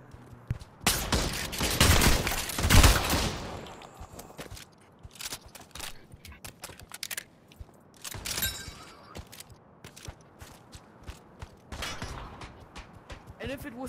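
Gunfire in the VR shooter Pavlov: a dense burst of rapid shots early on, then scattered single shots and a shorter volley later, mixed with footsteps and voices talking over the action.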